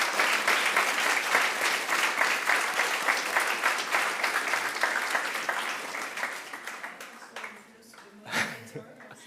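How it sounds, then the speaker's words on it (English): A conference audience at a main-stage panel session gives the panelists a round of applause: dense, steady clapping that gradually fades, with a brief final burst. "Please join me in giving the panelists a round of applause."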